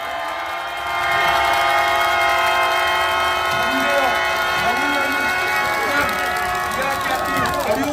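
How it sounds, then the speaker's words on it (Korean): A large crowd at a Wednesday protest rally roars with sustained, loud cheering, shouting and whistling that swells after the first second and holds steady for about seven seconds. "우리 연대한다는 마음으로 큰 환호를 한번 10초간 발사해 봅시다"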